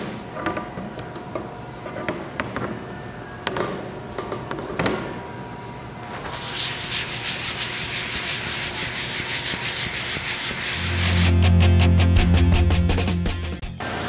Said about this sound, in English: In a circular motion, get the sides, get underneath, scrub around where the block sits.